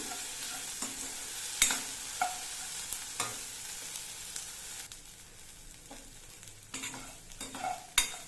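Turkey berries (sundakkai) sautéing in a pan give a steady close sizzle, punctuated by sharp spoon taps and scraping stirs at irregular intervals, with no voices.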